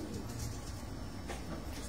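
Soft, low pigeon coos come from a rooftop where a pigeon-flying team has birds aloft, faint against a noisy outdoor background with murmuring voices.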